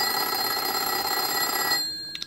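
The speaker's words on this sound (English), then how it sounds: "Or maybe I want a ringtone 4." An old-school telephone plays a ringtone, a steady bright electronic ringing that holds for about two seconds and then stops, with a couple of soft clicks after.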